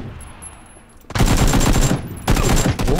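Gunfire in the battle royale game PUBG: after a quiet second, a loud dense burst of rapid shots erupts, pauses briefly, then resumes in a second heavy burst.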